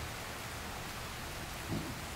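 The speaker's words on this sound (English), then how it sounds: "And then the rain just settles in." Steady rain from a spring storm falling on surfaces, a dense, even hiss of drops that continues throughout at moderate distance, with no voices.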